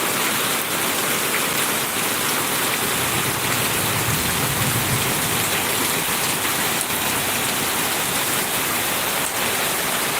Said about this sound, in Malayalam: ഈ വർഷം പെയ്ത ഏറ്റവും വലിയ മഴ